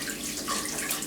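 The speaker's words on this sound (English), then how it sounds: "as I wash the tomatoes" Tap water runs steadily into a sink while tomatoes are washed, a soft continuous splashing hiss heard close and alone, without talk.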